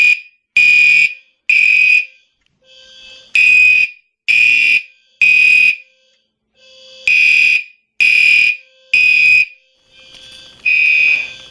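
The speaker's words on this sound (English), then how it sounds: "you can still hear them very loud" Household fire alarms blare loudly in a repeating pattern, piercing electronic tones in evenly spaced pulses with brief quiet gaps, heard close up with no voices.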